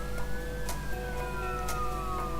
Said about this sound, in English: Stupid fire engines.